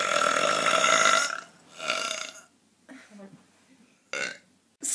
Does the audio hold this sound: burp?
yes